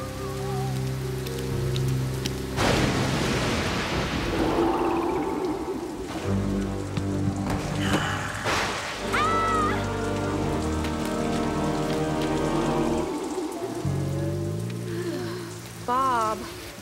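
Steady cartoon rain hisses down throughout on an animated rainy day, a continuous dense patter beneath background music and occasional character voices.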